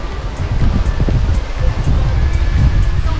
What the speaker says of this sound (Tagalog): Grabe kayong hangin.